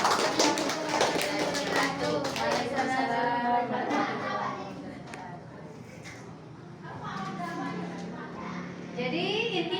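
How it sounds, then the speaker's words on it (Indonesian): Classroom clapping from pupils during an Islamic cultural history lesson, a burst of rhythmic hand claps mixed with children's chatter and voices, fairly near and moderately loud. "Tepuk tangan."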